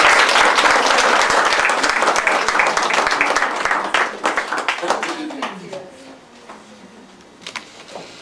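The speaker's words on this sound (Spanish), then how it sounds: "Un aplauso." An audience claps loudly and continuously in a school biology lab ceremony, the applause thinning into scattered claps midway, with a scraping sound and quieter room noise after it fades.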